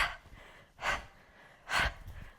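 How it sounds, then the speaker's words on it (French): During a gentle morning vinyasa yoga session, three short, forceful breaths are pushed out through the mouth at a steady pace, each a quick airy puff, close and fairly quiet, with no talking. "Tu peux expirer par la bouche."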